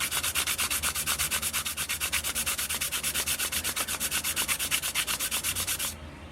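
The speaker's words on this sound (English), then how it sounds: "Hold that sandpaper nice and flat, go back and forth like this." Sandpaper is rubbed back and forth by hand to flatten a piece of wood for a handmade flute, a loud, close, rhythmic scratchy rasping of even strokes that stops abruptly near the end.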